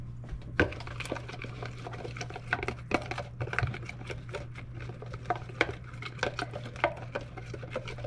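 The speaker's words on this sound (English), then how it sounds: "I'm going to give that a good stir" A spoon stirring steak seasoning mixture in a container, steady rapid scraping and tapping clicks repeating close up over a low constant hum, with no talk.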